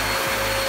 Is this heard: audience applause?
no